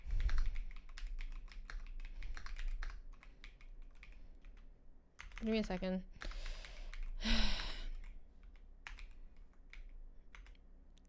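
Clicky taps on a computer keyboard run steadily at close range, with short bursts of faster typing, while a person talks casually over them.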